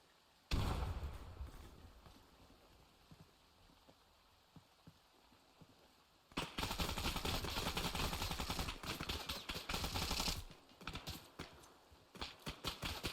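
Rapid bursts of gunfire in the Arma 3 military shooter game, a long sustained stretch of automatic fire followed by quieter scattered shots, with no talking.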